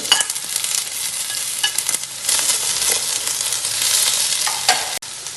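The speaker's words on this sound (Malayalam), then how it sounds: "സവാള ഇട്ടു, ഇഞ്ചി ഇട്ടു, വെളുത്തുള്ളി ഇട്ടു, പച്ചമുളക് ഇട്ടു." Onion, ginger, garlic and green chili fry with spices in a pan, giving a loud, steady sizzle and crackle with occasional stirring scrapes throughout.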